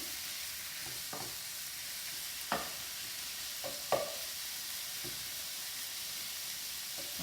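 Beef stir-fry sizzles steadily in a pan, a broad constant hiss broken by a few sharp clinks and scrapes of stirring, close and loud with no talking.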